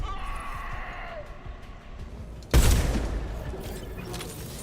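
A concussive shock ability fires in a sci-fi shooter game, a sudden loud concussive burst that rings out after a stretch of game ambience and faint voices.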